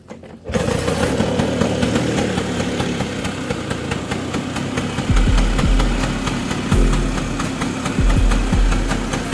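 A Vespa scooter engine starts up and then runs hard at high throttle, a loud, steady, close motor roar that swells in a few heavier pulses toward the end.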